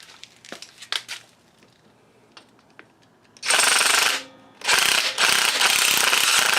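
A ratchet works loose the front motor mount on a Yamaha WR250 motorcycle, with a few scattered clicks and knocks followed by two long, loud bursts of rapid ratcheting close by.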